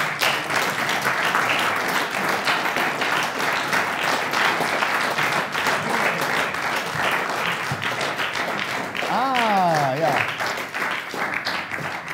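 Sustained audience applause and clapping fills the room for about ten seconds at a German television show's anniversary episode, with a voice rising briefly near the end amid the dense, steady clapping.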